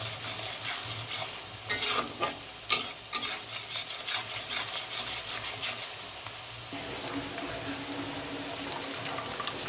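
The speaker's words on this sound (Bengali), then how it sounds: "মাছ ভাজার তেলের মধ্যে দিয়ে দিলাম পেঁয়াজ ১/২ কাপ পরিমাণ" Half a cup of onion frying in oil left over from frying fish for a Bangladeshi fish curry, with close sizzling and several sharp stirring clatters early, then a steadier hiss.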